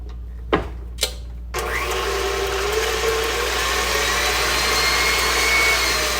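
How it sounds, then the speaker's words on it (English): A kitchen blender whirs steadily, mixing buttermilk and eggs; a couple of sharp clicks come first, then the motor starts and runs loud and continuous to the end. "And I'll go ahead and get my milk and my eggs blended, because I want my buttermilk and my eggs well blended."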